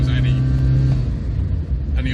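A 1978 Fiat 127 1050 CL with its 1050 engine pulls uphill in second gear, a steady low engine drone heard from inside the car, with a voice talking over it.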